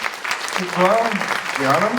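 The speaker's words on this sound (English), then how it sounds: "So if we could give a warm round of applause to our director," A festival audience applauds the director at a film screening Q&A, a steady wash of clapping running the whole time beneath a person speaking over it.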